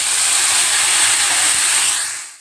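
Chopped tomato drops into hot tempering oil with green chillies for a Gujarati boiled potato curry, setting off a loud, steady, close sizzling hiss that fades out at the end.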